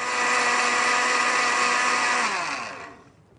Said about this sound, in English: So I'm going to pour that into the blender.